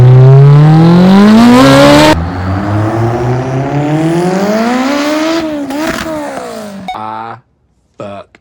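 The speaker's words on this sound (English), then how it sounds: "All right, so he's gonna do a first gear pull." A Mitsubishi Lancer Evolution X engine with hood exit exhaust revs hard in first gear, climbing in pitch through a loud acceleration, drops, surges again, then cuts off abruptly near the end.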